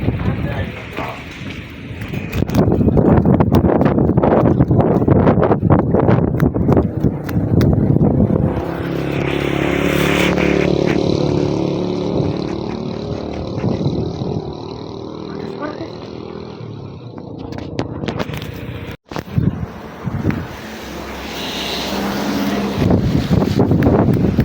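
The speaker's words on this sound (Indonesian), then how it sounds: "Anginnya guys kencang banget." Strong gusty wind blowing outdoors on a rainy day, a loud roaring rush that buffets the microphone and swells and eases across the whole stretch, with a few sharp knocks near the end.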